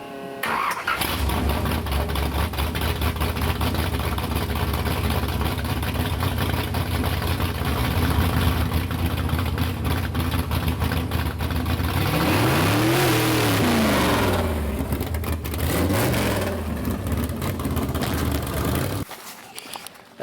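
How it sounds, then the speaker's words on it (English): A custom car from 2016 idles loudly, then revs higher and launches off a small pad with a rising engine roar, shifting pitch and an abrupt cut near the end. "Just turn the RPM up a little bit and launch it and see how the rear end behaves."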